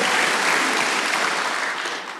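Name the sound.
congregation applause in church service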